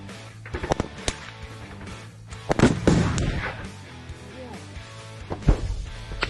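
Several sharp gunshot bangs in combat near Kyiv, with one loud blast near the middle and another toward the end, over a rumbling background.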